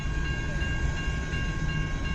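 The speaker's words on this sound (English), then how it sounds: "It's moving well fast. It's starting to pick up speed now. Like this train." A CN freight train hauling coal cars picks up speed in Kimball Township, a steady heavy rumble with a ringing metallic whine, heard close and alone.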